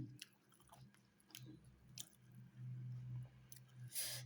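Close, wet chewing and squishing of thattu dosa with chutney, with soft crunchy bites, steady and intimate, no talking.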